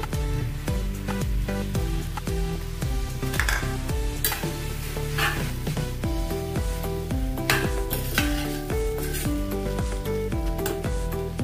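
Fried noodles with red chili sauce are stirred in a pan, steady sizzling frying underneath with continuous scraping and stirring strokes throughout, fairly loud and close, with no talk.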